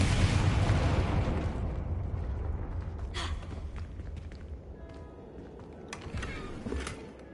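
A Confringo spell blast from Hogwarts Legacy bursts loudly at the start and decays into a rumbling tail, with a few sharp crackling impacts following later.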